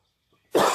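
A single sharp human cough bursts in suddenly after near silence, loud and close, then fades slightly as the clip ends.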